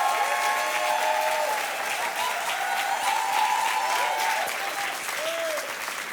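Audience applause welcoming a pastor in a church, strong continuous clapping from a congregation with cheering voices and whoops rising above it, easing slightly toward the end.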